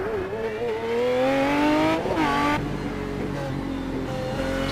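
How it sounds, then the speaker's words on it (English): An Aston Martin GT1 race car at Laguna Seca spins after cutting a right-hander, its engine note climbing and falling through revs, with a brief tire scrub as it loses grip, loud and close. "On the right-hander though, he cuts it too much and spins the car."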